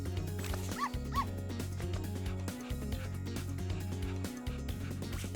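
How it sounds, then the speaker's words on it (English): A wolf pup character in the video game Spyro: Year of the Dragon gives a couple of short, dog-like yips and barks over steady looping game music, fairly faint beneath the soundtrack. "he sounds kind of like the dog from Ocarina of Time"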